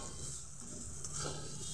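Onion paste is stirred in a kadai (wok) as it cooks, a steady soft sizzle with the faint scrape of a spoon moving through it continuously.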